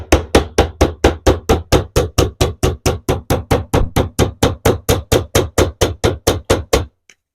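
Repeated light hammer taps driving pieces into a model railway baseboard top, about thirty evenly spaced sharp knocks in a steady rhythm, close and loud, then stopping.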